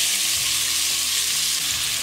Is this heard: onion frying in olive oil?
yes